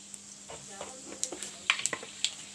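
Whole spices (panch phoron) sizzle in hot mustard oil in a curry pan, with quiet crackles and a few sharper pops over a soft steady hiss.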